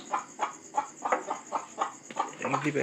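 A chicken clucks in a quick, rhythmic series of close, bright calls, about a dozen short bursts over a few seconds, with faint voice sounds around it.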